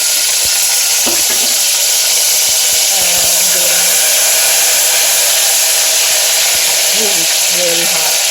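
Garlic paste sizzles and fries in a hot curry pan, a loud, steady hiss of spitting oil that holds without a break, with faint stirring clinks.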